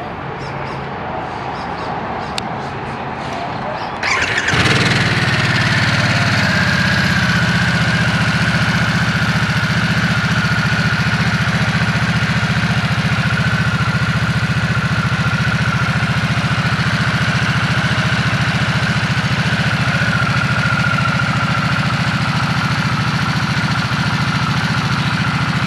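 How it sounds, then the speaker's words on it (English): A 2022 Harley-Davidson Nightster motorcycle engine is quiet for about four seconds, then fires up loudly and settles into a steady, deep, rumbling idle that continues close and alone to the end. "I guess we'll go ahead and start it up, see what it sounds like."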